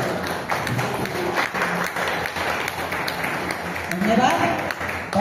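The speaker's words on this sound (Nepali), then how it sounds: "सबैजना उभिएर ताली बेजोडसँग ताली बजाएर उहाँलाई स्वागत गरिदिनु हार्दिक अनुरोध गर्दछु" An audience at a neighbourhood improvement committee's first annual function in Nepal stands and applauds to welcome a guest, clapping running steadily under an announcer's voice through the whole stretch.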